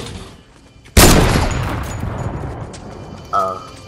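Gunfire in an online shooter game: a sudden loud burst of shots hits at about one second and rings out into a long, noisy decay, then a brighter second shot-like hit follows near the end. Players talk around it.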